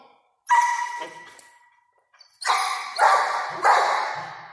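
A dog barks on command indoors: one sharp bark, a pause, then three quick barks in a row, each loud and close with a short ringing tail.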